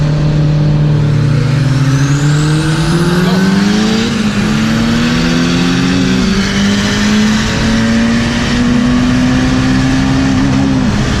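A turbocharged Honda Civic EK revs loud and close, its engine pitch climbing and wavering with a rising turbo spool whine over the roar, no talk, continuous for about eleven seconds.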